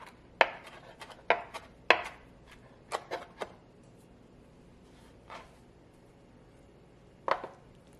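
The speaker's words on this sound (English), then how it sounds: "I am going to just chop a little bit of cilantro." A knife chops cilantro on a board, with sharp irregular strokes in small bursts, a few quick clusters and then sparser single cuts, fairly close and otherwise quiet.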